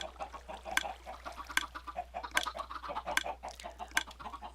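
Minecraft chickens cluck repeatedly in short, choppy bursts at a fairly regular pace over a faint low hum, with no talking.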